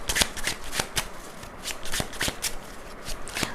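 Tarot cards being shuffled during a Hindi tarot reading, a quick run of crisp riffling flicks and snaps repeating close up, with faint speech in the background.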